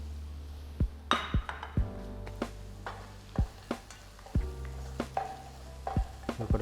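Cashews and coconut powder being stirred in a frying pan for a tamarind-leaf brinjal fry, with a spoon scraping and clinking against the pan in repeated strokes over a steady close sizzle.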